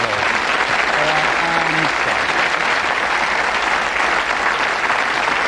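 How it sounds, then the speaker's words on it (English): A studio audience applauds a game show contestant with dense, steady clapping at close range throughout, while a voice speaks briefly over it near the start. "Give her a big round of applause"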